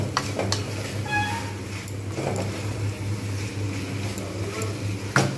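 Spices and melting tomato stirred and sautéed with potato in a pan, with a steady soft sizzle, scraping utensil strokes and occasional taps against the pan.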